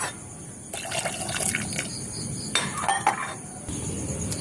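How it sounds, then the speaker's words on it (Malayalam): Water pours into a pot for boiling pasta in a few bursts of rushing, splashing flow, close and fairly loud, with brief pauses between pours. "കുറച്ചുകൂടി വെള്ളം ഒഴിക്കും"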